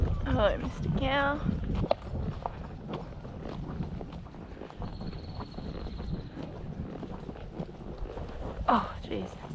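A very slow horse's hooves clip-clop along a trail in a steady, plodding rhythm, partly buried under wind buffeting the microphone, with a rider's voice breaking in briefly at the start and end.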